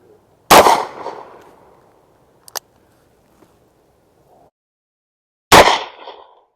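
A Taurus Raging Hunter revolver in .460 Smith & Wesson Magnum fires two booming shots about five seconds apart, each with a short ringing tail, separated by near silence and a faint click.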